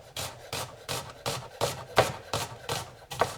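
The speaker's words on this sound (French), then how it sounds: "Je vais tout simplement émincer mon oignon." An onion is sliced with a knife on a wooden board, with eight steady, evenly spaced rasping cuts, close and fairly loud, and no talking.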